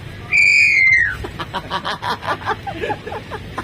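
A vehicle's whistle horn gives a short, shrill blast of about a second, followed by soft rhythmic puffing pulses.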